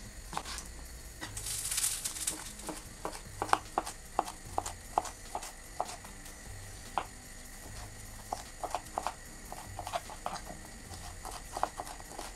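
A knife taps rapidly on a cutting board in a steady chopping rhythm, quiet and close, with no talking, cutting a sweet bell pepper into thin strips.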